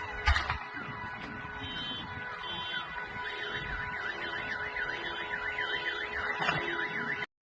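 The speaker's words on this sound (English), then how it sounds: "showing these cars on fire, car alarms going off" Car alarm blaring after a drone attack in Russia where cars caught fire, a loud warbling siren cycling up and down continuously, with a sharp bang at the start and background noise, no talking.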